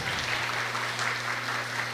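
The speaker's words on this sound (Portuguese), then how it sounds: "uma salva de palmas" An audience at a training session gives a brief round of applause, with soft, steady clapping over a low background hum.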